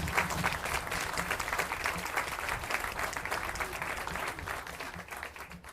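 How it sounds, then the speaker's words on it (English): Sustained crowd applause at a Marine Corps change of command ceremony, honoring the band and the Marines; dense steady clapping fills the whole stretch, fading slightly at the end. "So let's give a round of applause to the band"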